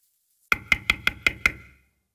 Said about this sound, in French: Tiens, on frappe à la porte.